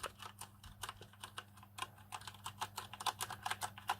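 Quick, crisp keystrokes are typed on a Turtle Beach Impact 700 gaming keyboard, a close, steady clatter of clicks with no voices.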